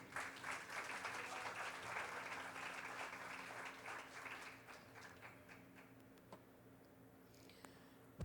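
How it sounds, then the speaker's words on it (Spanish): A church congregation claps in praise, a dense, steady applause that fills the first half and then thins into scattered, fading claps with faint background murmur. "Denle un aplauso al Señor."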